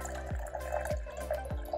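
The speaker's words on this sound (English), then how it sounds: "Just a slow little trickle, okay? This is a slow trickle." Water trickles slowly into a glass, heard as three soft, evenly spaced drips less than a second apart, close and quiet with no talking.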